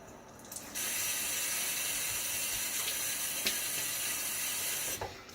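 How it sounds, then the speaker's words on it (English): Water splashed onto a face before a wet shave with cool, soft tap water, a steady close hiss of running water and splashing throughout, with a few brief louder splashes and no talking. "I'm going to splash my face."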